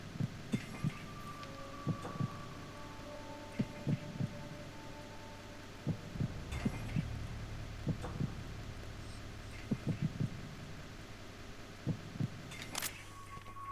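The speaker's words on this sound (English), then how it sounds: "I'll check someone else's heartbeat first." Heartbeat sound effect in Metal Gear Solid 2: Sons of Liberty, a faint steady double-thump pulse repeating throughout over a low game hum and ambient tones.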